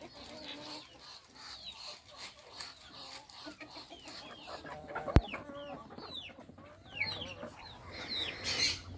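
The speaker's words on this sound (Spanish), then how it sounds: "aquí les estamos dando de comer a las gallinitas, a los pollos, los patos" Hens and chickens cluck and chatter while being fed alongside ducks on a small farm: scattered soft clucks with occasional louder calls, one sharp knock midway, and a rising flurry of squawks near the end.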